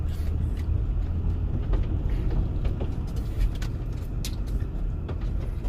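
A car drives along a road behind a home in Tusculum, Tennessee, in the mountain foothills on a snowy day, with steady cabin engine rumble and road noise heard from inside, no talking.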